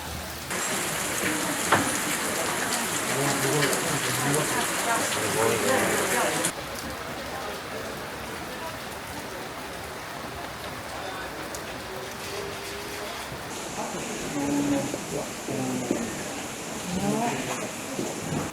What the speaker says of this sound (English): Listening to and watching the rain in itself is quite therapeutic.